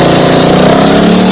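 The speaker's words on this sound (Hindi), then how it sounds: "डिस्टर्बेंस बहुत आ रही है सर वो बाइक की" A nearby motorbike engine runs steadily and loudly, with a continuous droning hum throughout and no pauses or talking.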